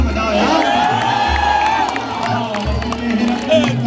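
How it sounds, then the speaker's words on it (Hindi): Live outdoor audience at a poetry recital on Assi Ghat in Banaras, crowd noise with cheering and whoops, a dense continuous roar with scattered clapping over a steady low hum. "पुलिस जी ताली बजाओ, पता नहीं क्या क्या बजाते हो, ताली तो बजाओ यार।"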